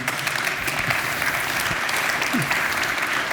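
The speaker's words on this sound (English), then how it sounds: "So you can give yourself an applause if you wish." An audience at a talk on scalable frontend development claps steadily for a few seconds, the dense, even applause filling the room with no clear voices over it.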